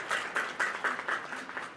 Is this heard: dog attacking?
no